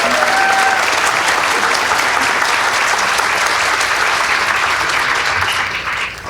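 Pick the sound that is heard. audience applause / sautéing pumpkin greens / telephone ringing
audience applause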